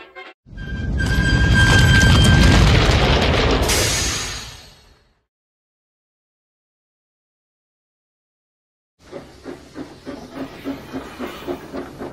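Steam engines on a railway: a loud burst of steam hiss and whistle-like tone that cuts off, then after a silence a rhythmic chuffing with clicking beats builds as the engines approach.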